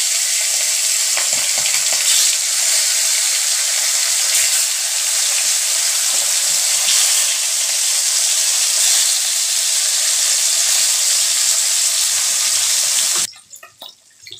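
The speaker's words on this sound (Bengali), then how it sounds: "একে একে মাছগুলো আমি দিয়ে দিচ্ছি, নুন হলুদ মাখানো মাছগুলো" Salted, turmeric-coated snakehead fish frying in hot oil: a loud, dense, steady sizzle fills the scene, then cuts off abruptly near the end, leaving a few faint clatters.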